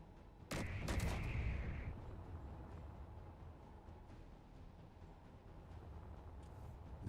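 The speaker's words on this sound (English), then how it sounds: "Shooting at the top." A short burst of video game gunfire with a sharp double crack and a ringing tail, followed by a low rumbling ambience that fades over several seconds.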